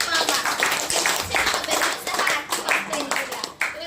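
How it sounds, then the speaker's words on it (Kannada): Steady rhythmic clapping from a small group at a stroke-therapy session, loud and close, continuing throughout with faint voices mixed in. "ಎಲ್ಲ ಶೇಕ್ ಆಗ್ತಾ ಇದೆ. ಜೋರಾಗಿ ಚಪ್ಪಾಳೆ."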